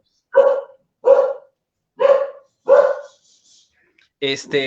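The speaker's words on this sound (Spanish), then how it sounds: "Disculpen el perro." A dog barks four times in an even rhythm, loud and close, followed by a pause and then a person starting to speak.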